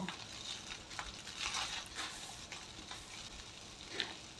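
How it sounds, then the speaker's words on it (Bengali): Mixed fried rice with scrambled egg being stir-fried in a pan, a quiet sizzle broken by scraping, tossing strokes at an irregular rhythm. "এবার সব উপকরণগুলো ভালো করে মিলিয়ে ভালো করে ভাজা করে নেব"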